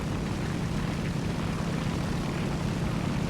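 Propeller aircraft engines drone in a War Thunder dogfight involving a Soviet biplane, a dense continuous roar with no breaks, loud and close throughout.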